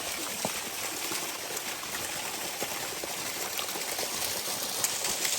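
Spring water from a remote mountain village flowing into the Sindh river in freezing winter cold, a steady broadband rush and gurgle of running water, continuous and close, with faint splashy ticks.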